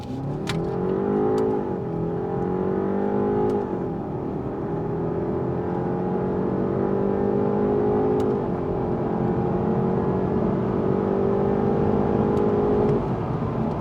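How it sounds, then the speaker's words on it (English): A BMW 530i (G60) with the B48 2-liter turbocharged engine accelerates hard, its engine note climbing steadily and dropping briefly at each of several gear shifts, loud and continuous from inside the car with no talking. "that sound is coming from the B48, a 2-liter turbocharged engine,"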